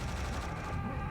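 Booming cannon fire in Serious Sam: The First Encounter, a dense, continuous wash of low blasts and rumble filling the moment with no pause.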